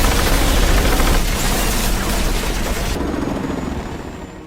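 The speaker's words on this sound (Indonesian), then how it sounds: "lantai paling atas itu diberondong oleh tembakan, yang ternyata itu helikopter milik Interpol" A helicopter's gunfire rakes a building's top floor in the Hitman film, a loud dense roar of rapid shots and rotor noise that fades slightly after a few seconds.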